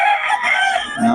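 A young rooster crows at a poultry market in Bocaue, a loud, close, strained call that carries through the whole brief moment without any talking.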